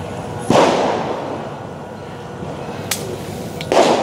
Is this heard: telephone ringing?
no